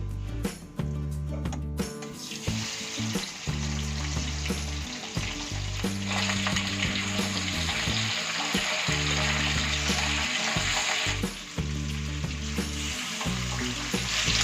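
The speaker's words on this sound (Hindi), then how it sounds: "अब हम इसमें फिश को फ्राई करेंगे।" Rohu fish frying in hot oil, a loud continuous crackling sizzle over a steady low hum, with occasional clinks and shifts as pieces settle, close up and without speech.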